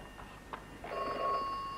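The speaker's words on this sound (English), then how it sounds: "Miss Perkins, the telephone's ringing." A telephone in an old comedy gives a single short, bright electronic ring. The ring is fairly faint and heard alone after a couple of small clicks.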